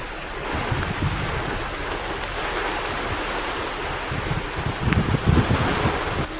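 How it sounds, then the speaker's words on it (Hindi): Strong wind with rain in Mungeli, heard as a steady roaring rush with buffeting gusts against the microphone and a low rumbling undertone, no voices. "मुंगेली की भी आप तस्वीरें देख रहे हैं जहां तेज हवा के साथ बारिश हुई।"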